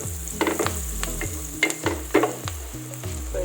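Onion and garlic frying in butter in a pan for buttered shrimp, with a steady sizzle broken by repeated stirring scrapes and clatters, close and moderately loud, no talking.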